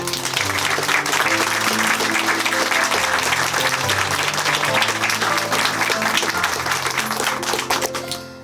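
A church congregation gives sustained, loud applause, dense clapping filling the whole stretch and tapering slightly at the end.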